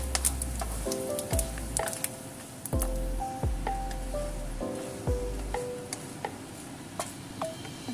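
Spice bowl contents stir-fried in a pan for braised beef shanks with seven spices: steady sizzle with repeated scraping strokes of the utensil, close and fairly loud, with no talking.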